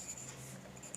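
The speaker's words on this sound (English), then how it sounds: "So first we will draw its rough sketch." A pencil draws a rough triangle sketch on paper, producing a soft, faint, continuous scratching that lasts about a second with no speech.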